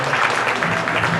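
A graduation day audience applauds, a dense steady burst of clapping filling the hall, loud and close for a brief moment.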